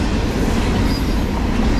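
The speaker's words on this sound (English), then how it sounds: "Fourth train in less than an hour this morning." Norfolk Southern 22X freight train led by a Dash 9-44CW with two AC44C6M locomotives, 86 axles at 51 mph through Piscataway, passing close with a steady, loud rumble and roar of cars rolling by.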